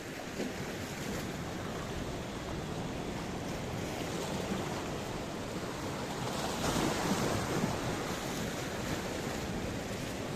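Mediterranean Sea waves wash onto a beach near a resort in Paphos, Cyprus, a continuous broad roar of surf with wind buffeting the microphone, steady and fairly loud.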